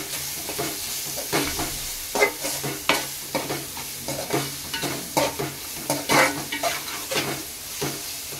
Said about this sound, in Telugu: ఇప్పుడు నేను ఒక స్పూన్ వరకు పసుపు అయితే వేసుకుంటానండి. వేసుకొని మంచిగా ఒకసారి కలిపేసుకుందాం